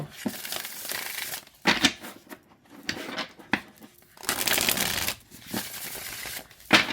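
A deck of tarot cards being shuffled by hand, with crisp riffling bursts and softer slides and taps in an irregular rhythm, close and fairly quiet.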